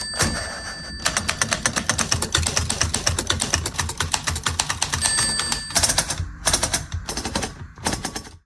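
A manual typewriter clatters in rapid, rhythmic keystrokes, loud and close, with brief pauses and a few separate bursts of strikes near the end; no voices.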